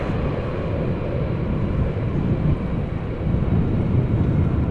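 A KLM airliner lands at Amsterdam Schiphol in gusty crosswind without using reversers, heard as a dense, loud low rumble of engine and wind noise that holds steady throughout with no distinct peaks or voices.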